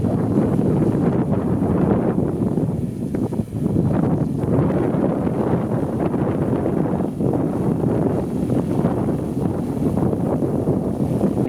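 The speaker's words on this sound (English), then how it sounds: "it was an incredibly windy day" Strong, constant wind roaring and buffeting against the microphone, a dense low rumble with no letup.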